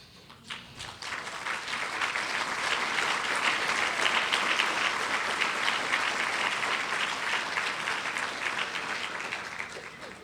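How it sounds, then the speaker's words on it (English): An audience breaks into a sustained round of applause honoring volunteer board members at a health center's 40th anniversary celebration, starting sharply and holding steady at full strength for several seconds before tapering slightly. "I'd like to ask my fellow board members to stand for a round of applause"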